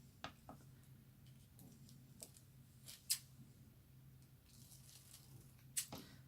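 Scissors trim craft foil with a few faint, crisp snips spaced apart against a quiet background hum, close up, with no speech.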